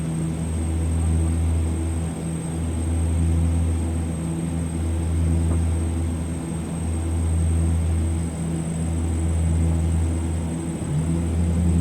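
Saab 340A twin-turboprop engines in the X-Plane 11 flight simulator, on approach with flaps set: a steady, close propeller drone with a low throbbing hum and a faint high whine, continuous and unbroken, with no talking.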